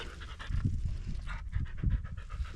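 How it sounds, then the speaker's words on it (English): A dog pants close by in the Arizona desert, giving quick, rhythmic breaths that rise and fall in short bursts. "But I got a dog here on my way."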